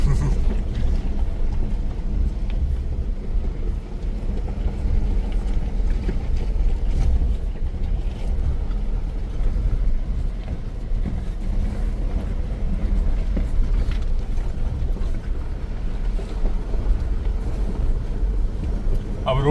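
A Force Gurkha SUV engine rumbles low and steady while off-roading at night on a rough forest track, a continuous droning hum with bumps and rattles and no clear gear changes.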